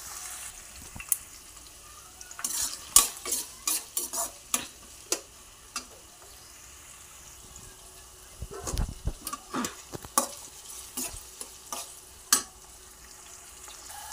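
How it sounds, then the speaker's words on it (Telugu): Onions and green chillies fry in a pan for a fish curry, sizzling softly beneath sharp, irregular scrapes and clacks of a spatula stirring them. "ఆనియన్స్, పచ్చిమిరపకాయలు బాగా వేగినాక కొంచెం కరివేపాకు వేసి వేయించుకున్నాక"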